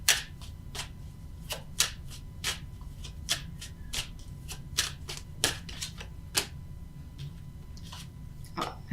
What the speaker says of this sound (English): Oh, let's take another card.